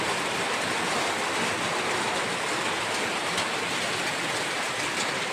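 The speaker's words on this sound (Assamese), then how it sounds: "এয়া চব পূৰা ডাঙৰ বৰষুণ।" Heavy rain pours down steadily during Holi in Assam, a dense, continuous hiss of falling water at constant loudness, with no talk and no breaks.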